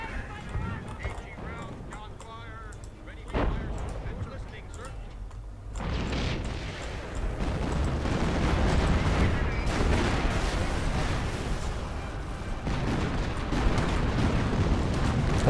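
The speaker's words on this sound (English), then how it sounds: "That's a proper barrage." World War II artillery barrage in Company of Heroes, a rising rumble of repeated shell blasts and booms that thickens into a dense, sustained bombardment over the second half, with someone talking over it.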